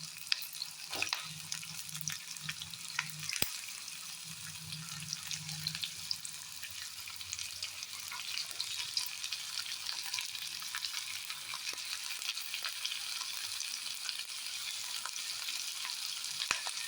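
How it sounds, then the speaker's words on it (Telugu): Chopped onion and tomato fry in hot oil for a masala chicken gravy, giving a steady, fairly quiet hiss with soft crackles that hold evenly throughout, with no voices. "కొంచెం ఆయిల్ వేడైన తర్వాత మనము ఆనియన్ టమోటా వేసి ఆనియన్ ఎర్రగా అయ్యే వరకు, కొంచెం బాగా ఎర్రగా అయ్యే వరకు వేయించుకోవాలి."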